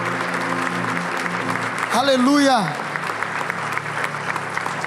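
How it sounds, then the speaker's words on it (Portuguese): Church congregation applauding the name of the Lord during a Portuguese-language sermon, steady crowd clapping throughout while a sung or shouted voice rises above it in the middle. "Se você pode, aplauda o nome do Senhor"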